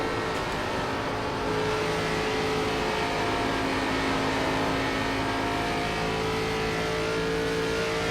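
Engines of 2003-era NASCAR race cars in iRacing drone continuously at high revs, a loud, steady tonal roar with layered harmonics from a car at speed on track, no talking.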